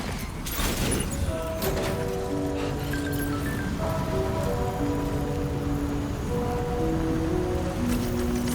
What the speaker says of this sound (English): Raindrops are falling on my head.